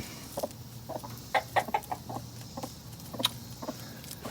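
A startled broody hen clucks in a string of short, sharp, uneven calls, close by and fairly loud, over a low background hum.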